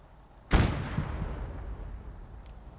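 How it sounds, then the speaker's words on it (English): Artillery fire in a World War II strategy game at Villers-Bocage: one sharp, fairly loud blast after a quiet start, followed by a rolling, decaying rumble. "artillery took out one of the, Nebelwerfers"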